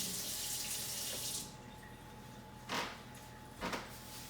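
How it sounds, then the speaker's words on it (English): Tap water running from a faucet into a sink during hand washing after cracking raw egg for pizza dough balls, a steady close rush with a couple of brief splashy surges as hands move under the stream. "now we have to wash our hands because egg is very bad for you"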